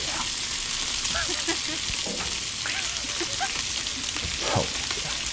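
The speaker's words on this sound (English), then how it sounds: "you always want to get that bacon on first and utilize that good bacon fat" Bacon frying on a flat griddle kept under 400 degrees, a steady dense sizzle with crackling pops running loud and close throughout, with faint talk underneath.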